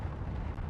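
Weapons fire in Space Engineers, a dense, rumbling barrage of blasts that runs continuously without a break.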